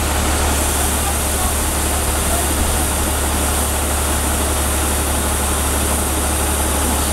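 A UAZ off-road vehicle's engine runs at idle, a loud, steady broadband rumble with no break, heard up close for several seconds.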